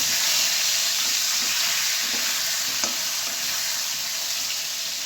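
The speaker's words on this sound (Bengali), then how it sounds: "এবার আলুটা একটু ভেজে নেব।" Potato pieces seasoned with salt and turmeric fry in a hot pan, giving a loud, continuous sizzle and hiss throughout with faint stirring clicks.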